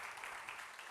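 A church congregation at a Sunday service claps together in a brief, faint burst of applause.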